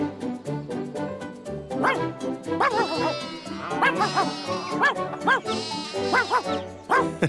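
Sheep bleating and a dog barking in a busy, layered mix, with overlapping animal calls throughout.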